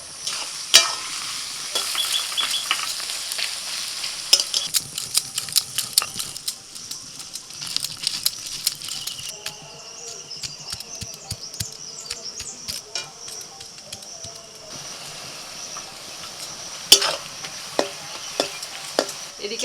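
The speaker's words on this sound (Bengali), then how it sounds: "কড়াইতে সাদা তেল দিয়ে দিয়েছি, এবার একটু পেঁয়াজ বেরেস্তা ভেজে নেবো।" Onions frying in white oil in a kadai for a Bengali prawn dish, giving a steady crackling sizzle punctuated by sharp clicks and scraping stirs, moderately loud and close throughout.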